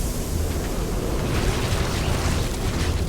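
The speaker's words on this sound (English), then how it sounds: "the gas is destroying the infested Terrans" Toxic gas pours out in a StarCraft II: Heart of the Swarm cutscene, flooding a Zerg-infested facility and destroying infested Terrans. It comes as a loud, steady, broadband rushing roar with a low rumble that lasts the whole time, and no voices.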